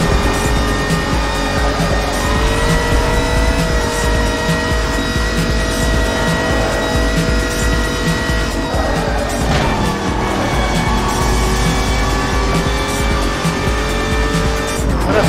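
Mustang race car in Need for Speed Most Wanted (2005) roars at steady high revs throughout, with shifting engine tones, a gear change near the middle and tire squeal, loud and continuous with no talking.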